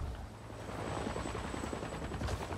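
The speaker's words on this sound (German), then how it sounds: "nochmal ein Heli." A helicopter in the sci-fi action game Avatar: Frontiers of Pandora drones steadily with a dense rotor and engine roar that fills the background at moderate loudness.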